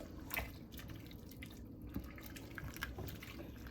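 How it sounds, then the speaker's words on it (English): Chitlins being stirred in a pot, soft wet sloshing and squishing with small drips and splashes, close and quiet over a few seconds. "just stir them around so they can get that seasoning in there"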